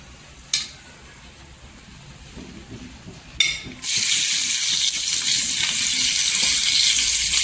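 Green chilies dropped into hot oil seasoned with turmeric, first crackling in brief bursts, then bursting into a loud, steady close-up sizzle that continues to the end.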